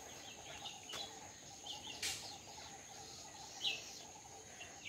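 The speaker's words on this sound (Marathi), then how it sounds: "तर पक्ष्यांची किलबिलाट तुम्ही का ऐकू घेत असाल," Morning birdsong drifts over a Konkan village at the foot of a misty green hill: faint scattered chirps and one sharper call over soft insect hum, distant and quiet with no voices.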